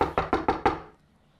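Five quick, sharp knocks on a door in an even rhythm, loud and close, followed by a short fading ring of the room.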